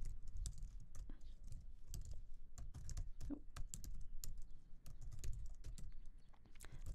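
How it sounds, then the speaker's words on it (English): Quiet, close keyboard typing with quick irregular keystroke clicks as a Maven command is entered on a computer keyboard, over a low background hum and with no speech. "And here I'm going to type this Maven command."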